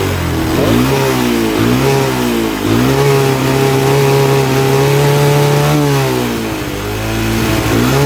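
A 1983 Honda 200e three-wheeler engine is held at full throttle with its air filter out and a suspect carburetor. The loud, buzzing roar rises and dips unevenly in pitch, close up and uninterrupted.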